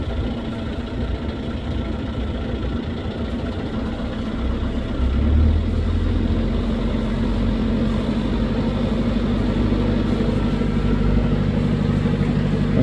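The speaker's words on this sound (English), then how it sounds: "then you let the engine go into reverse and do the same again" A boat engine idles with a steady low drone, then is put into reverse and the rumble swells slightly louder midway before holding a constant throb to the end, with no talking.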